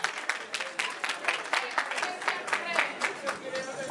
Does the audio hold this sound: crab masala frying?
no